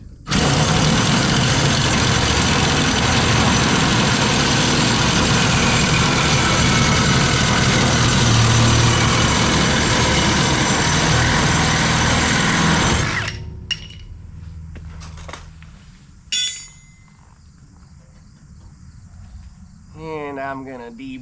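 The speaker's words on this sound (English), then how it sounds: "I'm just going to take a Sawzall and cut it off at the base of that flat stock there" Loud, steady Sawzall reciprocating saw cutting flat steel stock off at the base of a floor pan, running nonstop for about thirteen seconds and then cutting out, followed by quieter shop clatter and a few light knocks.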